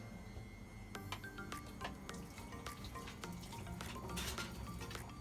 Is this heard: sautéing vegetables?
yes